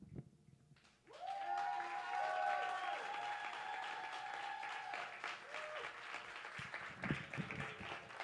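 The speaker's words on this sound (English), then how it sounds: "Keep that round of applause going for Aria." A poetry slam audience breaks into applause that starts abruptly and swells into sustained clapping and cheering, with a few whoops, then gradually thins toward the end.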